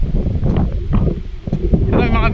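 A strong, cold wind blows outdoors at a hillside lot in Silang, Cavite, buffeting the microphone with loud, gusty low rumble.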